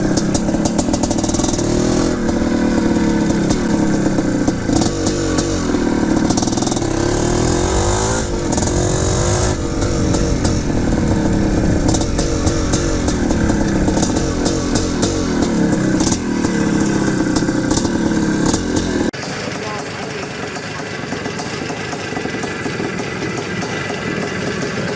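A 1979 Suzuki RM400 single-cylinder two-stroke motorcycle engine runs loud and close, its raspy buzzing pulse rising and falling with throttle blips before dropping to a lower, steadier note near the end.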